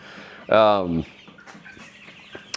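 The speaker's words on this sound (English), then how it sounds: "I've got 45 chicks in here right now." About 45 chicks in a brooder: one loud, close, harmonic cheep stands out, followed by a few faint, scattered peeps over quiet background.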